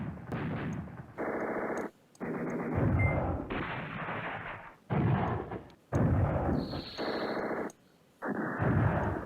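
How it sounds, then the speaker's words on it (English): Artillery barrages in the wargame Command Ops 2 pound in long, loud blocks of rumbling fire, broken by short silent gaps, with a faint high tone partway through and no voices. "Just going to get that artillery off, because we have most of the tanks off, which is fine."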